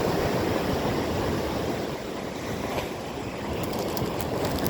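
Ocean surf washes steadily onto a beach in a continuous broadband rush, with wind noise buffeting the microphone and no speech.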